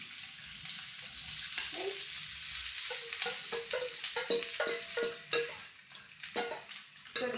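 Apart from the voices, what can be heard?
onions sautéing in hot oil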